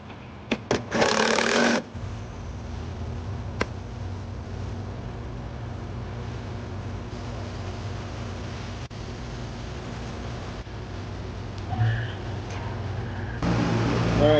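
An air conditioning unit running on its second-stage compressor gives a steady, loud mechanical hum and whir throughout, opened by a few sharp clicks and clunks, with a brief rattle near the end.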